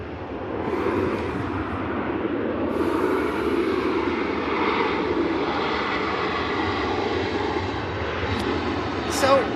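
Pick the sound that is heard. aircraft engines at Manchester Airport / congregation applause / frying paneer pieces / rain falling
aircraft engines at Manchester Airport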